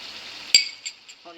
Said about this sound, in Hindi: अब हमने इसको 8 से 10 मिनट तक भूनना है